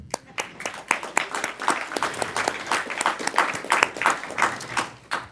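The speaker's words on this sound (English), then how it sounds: "Let's just applaud that." Applause from an audience at a transportation infrastructure policy event, steady clapping with individual sharp claps standing out, moderately loud and sustained throughout.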